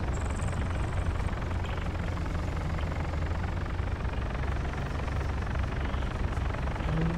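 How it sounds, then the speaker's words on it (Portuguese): A helicopter in Arma 3 thumps its rotor steadily with a dense engine roar, loud and constant throughout, with no talking. "Dá um helicóptero ali, cara."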